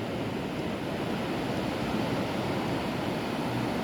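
Sea waves washing onto a beach make a steady, dense surf wash with a low rumble. The sound is continuous and fairly soft, with no voices.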